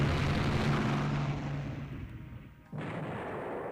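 Aircraft arriving over a naval battle in the strategy game Rule the Waves 3, a loud rumbling roar with heavy booming that fades, drops out briefly, then surges back.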